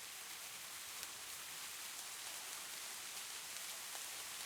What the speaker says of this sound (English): Crazy that I got rain the first day, too.